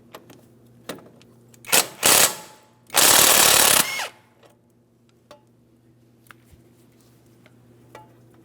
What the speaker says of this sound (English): hold the bolt head still while we remove our mounting nut from each.